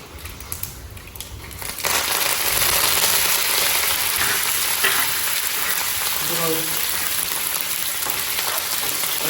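Curry leaves dropped into hot oil with mustard seeds while making mango pickle, giving a loud, steady crackling sizzle that jumps up abruptly and keeps going, with almost no talk.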